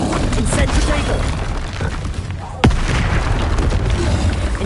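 A fire spell blast in a Harry Potter wizard video game lands as one sharp, loud burst that cuts through a dense, continuous wash of game noise.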